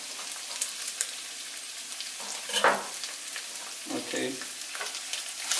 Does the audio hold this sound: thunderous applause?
no